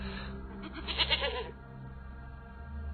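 A goat bleats once in a short wavering cry near the middle, close and clear, over a low steady background hum.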